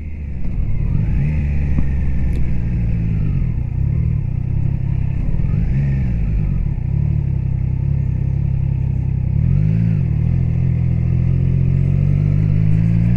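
A Triumph Trident 660 motorcycle engine drones loudly and steadily while riding, its pitch rising and falling briefly a few times as revs change, with no talk.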